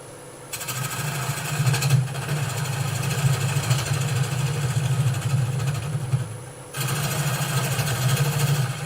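A wood lathe spinning a rough blank as a tool clears the central nub, a steady low motor hum with gritty scraping and chattering of the cutting tool on top, dropping briefly before resuming.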